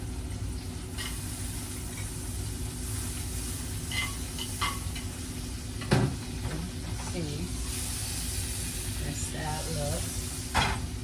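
Butter sizzling in a hot skillet gives a steady, close frying hiss throughout, with a few clanks and scrapes and faint talk over it.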